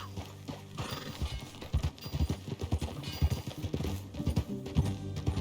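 Rhythmic horse hoofbeats clip-clop at a steady pace in Red Dead Redemption 2, close and fairly loud, over a low musical drone.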